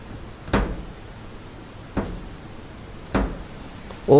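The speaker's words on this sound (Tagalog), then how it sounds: "may kumakatok" Three sharp single knocks on a door in an abandoned old hospital, spaced well apart in an otherwise quiet room, followed by a brief clatter at the end.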